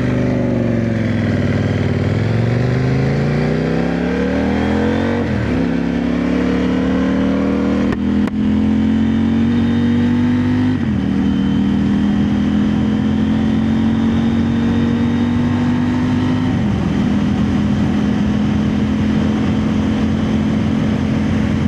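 A CFMOTO 800NK motorcycle engine idles and revs steadily nearby, its pitch climbing and dropping in repeated surges, loud and continuous throughout with no talking.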